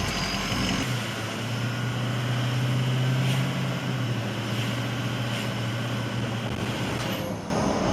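Steady deep hum of a car engine running after a fuel filter change, an even, continuous drone with little variation throughout.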